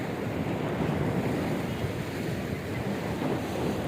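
Arabian Sea surf rolls onto the shore on the Karnataka coast near Murudeshwar, heard as a dense, continuous roar of breaking waves mixed with wind buffeting the microphone, loud and unbroken throughout.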